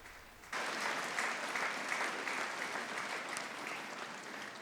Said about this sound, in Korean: C'est donc Marie et Jésus qu'il faut applaudir.